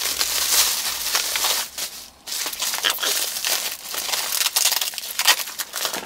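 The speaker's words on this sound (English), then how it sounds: "I'm gonna just get all the paper and the wrapping off" A newly delivered handbag is unpacked from its paper and plastic wrapping, giving close, continuous crinkling and rustling that goes on for several seconds with brief pauses.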